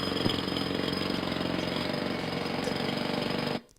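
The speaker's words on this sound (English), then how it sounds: "there is also the sound of drilling that is going on" Continuous mechanical drilling noise at a university computer science department, a steady droning, rattling whir that runs unbroken at moderate level and then stops abruptly.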